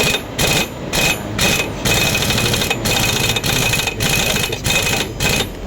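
Yamaha Mio Sporty scooter engine running after a bendix drive replacement, a steady rattling mechanical drone with rhythmic pulsing bursts, close and loud throughout with no talking.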